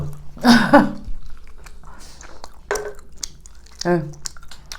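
Sushi chewed close to the mic during an eating broadcast, with a few moist, squishy bursts of chewing separated by quieter pauses, with occasional faint voice-like sounds.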